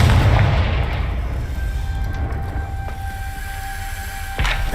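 Confringo fire spell from Hogwarts Legacy erupts in a loud, close explosive burst that rumbles and decays over several seconds, followed by a second sharp thump near the end, with no voices.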